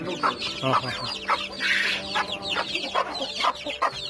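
Native free-range chickens on a Palakkad farm cluck in repeated short bursts at close range, with farm ambience and some talk mixed in.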